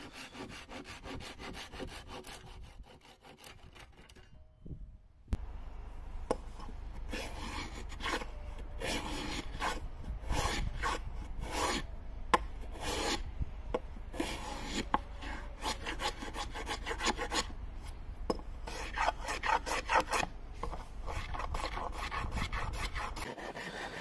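A rasp files bevels on wooden end table legs in a workshop. Quick gritty strokes repeat close up, with a short pause around the fifth second before the steady rasping resumes.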